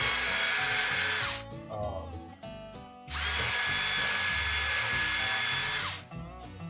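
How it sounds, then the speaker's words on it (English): Two long bursts of a high-pitched power drill whining loudly up close as it bores into a wooden whiskey barrel, separated by a short pause with clunks and shuffling. "we're gonna drill this barrel"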